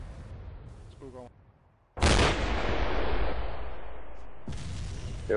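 A soldier speaks briefly before an AT4 anti-tank weapon fires with one loud, sudden blast that rolls out into a long fading echo outdoors, and another sharp report comes near the end.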